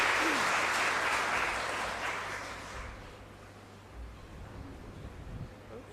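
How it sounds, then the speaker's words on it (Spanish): Congregation applauding during Mass at a chapel, a broad wash of clapping that starts full and gradually fades over several seconds, with a steady low hum underneath. "Y un fuerte aplauso para todos ustedes, queridos hermanos."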